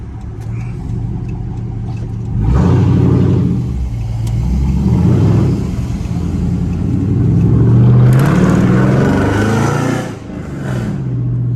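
A loud catless Chrysler 300C driving through downtown Chicago at night: a deep, rumbling engine roar that surges hard twice as it revs, near and continuous, with no voices.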